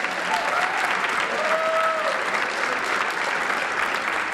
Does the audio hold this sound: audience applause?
yes